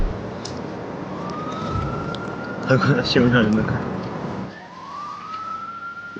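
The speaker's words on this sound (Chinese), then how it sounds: "你那边有警笛的声音。" A police siren wails in the background, rising and falling behind dialogue, fairly faint and distant, while people talk over it in a quiet indoor scene.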